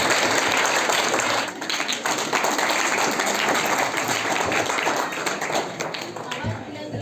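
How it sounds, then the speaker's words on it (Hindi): A school debate competition audience claps loudly and continuously in a hall, the dense applause filling the whole stretch with a slight dip partway through. "आपकी तालियों पर जोर होना चाहिए।"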